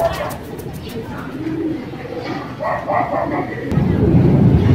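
Racing pigeons on a club training flight coming back to their home loft, with repeated pigeon cooing and a dog barking, and voices and outdoor background noise around them.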